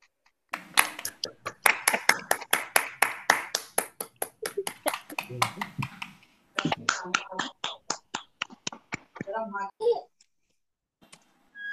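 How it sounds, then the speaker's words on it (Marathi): Children on a video call clap together in a burst of fast, uneven applause that thins into scattered claps, pauses, then picks up again briefly before fading. "आता हा का वाजवल्या टाळ्या आपण?"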